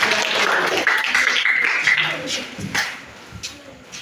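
A classroom group claps for a few seconds after a presentation, the applause loud at first and then thinning into scattered claps, with some voices under it.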